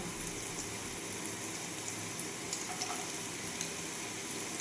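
Chopped carrots sizzle and hiss steadily in a frying pan while being stirred, with occasional soft scraping taps of the spoon; no one talks.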